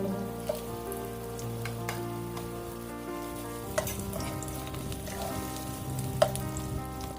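Lemongrass and shallots sauté in a little hot oil for tom yum paste, a steady close sizzle with occasional sharp crackles and pops, no voices.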